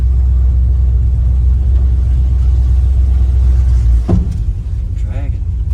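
The V8 engine of a VK Dodge ute rumbles low and steady from inside the cab on its first drive, with a sharp clunk partway through and people talking over the engine noise.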